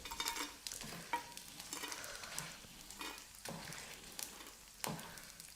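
Edible gum (gond) roasting in ghee in a pan, a steady soft sizzle under repeated scraping strokes of a spoon stirring, close and moderately quiet with no talking.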